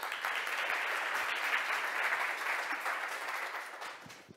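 An audience applauds a speaker invited on stage at a Montreal conference event, dense steady clapping from a crowd that holds at an even level and tapers slightly near the end.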